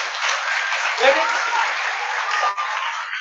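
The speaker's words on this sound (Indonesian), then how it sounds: "Ya, tepuk tangan untuk jenengan-jenengan semua." An audience at an Indonesian religious talk breaks into sustained applause, dense steady clapping filling the space with a voice briefly heard over it.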